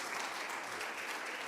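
Church congregation claps for a couple at a service, a brief burst of even, fairly faint applause with no voices over it.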